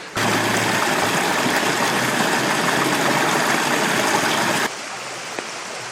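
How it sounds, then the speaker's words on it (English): A mountain creek in Japan rushes steadily and loudly as a broad, continuous wash of flowing water, dropping to a softer, more distant flow for the final second. "Crossing the creek."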